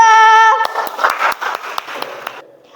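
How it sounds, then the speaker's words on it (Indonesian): A classroom of students claps for a student group after a tonal chime ends, giving a short burst of scattered hand claps that quickly fades. "beri tepuk tangan buat kelompok 2"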